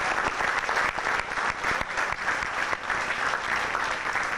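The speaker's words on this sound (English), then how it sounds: "Give them another round of applause." A crowd gives another round of applause for the performers Imperial Queen Allison and the Allisonians at a live event, thick continuous clapping from many people that holds steady and loud from start to finish.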